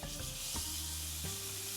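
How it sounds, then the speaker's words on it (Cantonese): Beef steak searing in hot oil in a wok gives a steady broadband sizzle, continuous and close, with a couple of brief clanks partway through and no talking. "之後就將隻鑊燒熱，加啲油，將第一面煎1分鐘先。"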